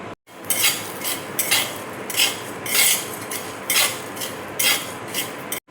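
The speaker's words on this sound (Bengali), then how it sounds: "কালো বড় এলাচ, সবুজ এলাচ, লবঙ্গ আর দেখো ধনে আমি ড্রাই রোস্ট করে নেব।" Whole cardamom, cloves, black pepper and coriander seeds being dry roasted in a pan, the spoon scraping and stirring in repeated bright rasping strokes with short pauses between them, close and clear with no talk.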